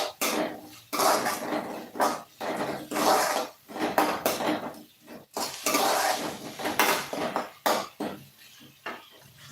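Tomatoes being stirred in a metal cooking pot while making tomato rice, with repeated scraping and clinking of a spoon against the pot in irregular bursts, close and fairly loud, no talking.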